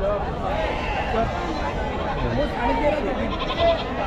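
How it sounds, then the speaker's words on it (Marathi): Sheep bleat steadily amid the dense crowd babble and chatter of the large Chakan goat and sheep market in Maharashtra, held before Bakri Eid, with livestock calls rising above continuous voices throughout. "बऱ्यापैकी मेंढ्या आलेल्या आहेत."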